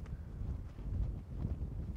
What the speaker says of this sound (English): It's sustained 20-mile-per-hour winds, but we had gusts up to 30 all day.